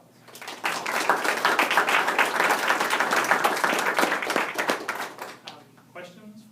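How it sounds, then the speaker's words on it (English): Round of applause at a school board of education meeting, a room of people clapping steadily for several seconds before it tapers off and voices begin. "if you would please give them a round of applause"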